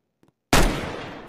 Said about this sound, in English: Why is there a gunshot every time it shows?